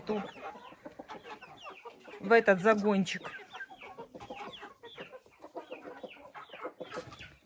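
Laying hens cluck in short bursts close by in their coop at a country garden plot, with a louder flurry of clucking midway, while someone talks over them.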